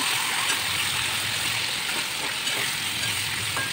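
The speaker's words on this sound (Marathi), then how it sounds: "मंद आचेवर परतून घेऊया" Eggplant pieces with asafoetida and curry leaves sauté in oil over low heat, giving a soft, even sizzling hiss that stays constant and close throughout.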